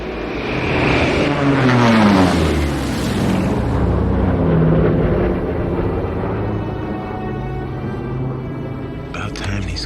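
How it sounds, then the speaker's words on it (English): A military plane approaches and passes overhead, its engine drone rising and sweeping down in pitch as it nears and recedes, loud and continuous over open ground. "I think that's our plane"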